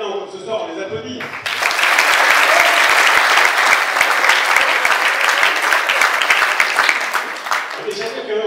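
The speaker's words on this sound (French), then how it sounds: "Merci à nos clients d'être là encore ce soir, on les applaudit." A crowd bursts into loud, sustained clapping that carries on for several seconds, following a few moments of a voice speaking.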